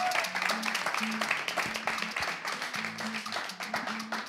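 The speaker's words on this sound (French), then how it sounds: "On va l'accueillir avec les acclamations du public." An audience applauds and cheers to welcome a guest onto a French-language television show, with steady clapping over a low musical backing throughout the short stretch.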